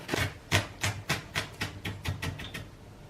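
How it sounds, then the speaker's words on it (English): A kitchen knife slices onions finely on a cutting board, about ten crisp, evenly spaced chops close up, with no talking. "So there you have it, your onions, nicely sliced."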